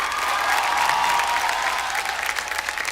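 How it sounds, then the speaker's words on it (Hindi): An audience at a kavi sammelan poetry event bursts into sustained, dense applause, steady clapping from a large crowd filling the space for about three seconds. "चारों के लिए जोरदार तालियां।"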